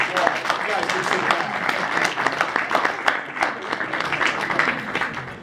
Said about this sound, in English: I want everybody, huge round of applause.